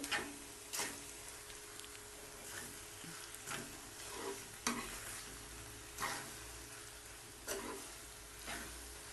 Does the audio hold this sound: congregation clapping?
no